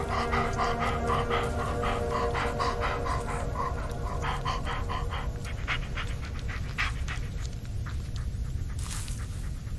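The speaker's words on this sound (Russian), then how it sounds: "Yeah, good dog." A dog pants steadily and close by in the Blair Witch video game, with a continuous game ambience and scattered short clicks and thuds underneath.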